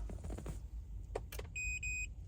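After a few soft clicks and a thump inside a quiet Volkswagen ID.3, a Thinkware dashcam powering off as the car shuts off gives two short high electronic beeps in quick succession.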